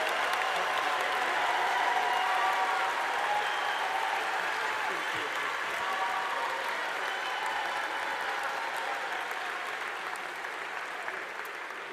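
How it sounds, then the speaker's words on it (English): Sustained applause from a large audience at a Portland State University College of the Arts commencement ceremony, steady broadband clapping that holds for about twelve seconds and eases slightly toward the end. "Let's give a huge round of applause for our name readers who just appeared."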